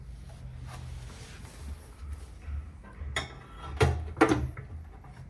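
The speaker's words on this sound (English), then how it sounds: "We're going to slide the bracket in and around the blower pad located right here on the unit" A metal bracket slid in and around the blower pad of a Nova Series stove, with scraping and a few sharp metallic clinks toward the end over a low steady hum, close and moderately loud.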